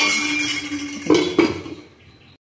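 A metal lid goes onto a cooking pot over a steady background hiss, with two quick close clinks of metal on metal before the sound cuts off.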